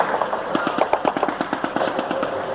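Rapid bursts of automatic gunfire crack out during combat in Iraq, a fast irregular string of sharp shots fairly close with no talk over them.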